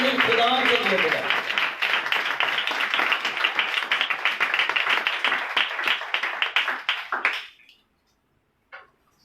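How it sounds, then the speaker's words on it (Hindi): A church congregation claps loudly and rapidly for several seconds, a dense crowd applause that thins out and stops abruptly, followed by near silence and one faint tap. "खुदा के कलाम के लिए जोरदार तालियां"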